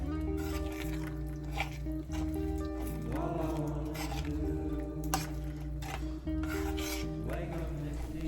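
A thickening mixture stirred in a pot, with continuous close scraping and squishing strokes under a low steady hum, repeating in a loose rhythm.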